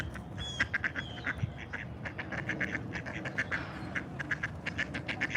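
A duck quacks repeatedly at a lake on a warm day, fairly close, over steady outdoor background noise with no talk.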